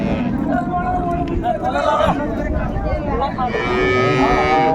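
Cows and calves moo repeatedly at a busy village cattle market in Dinajpur, the lowing calls close and loud over steady crowd chatter and background hubbub.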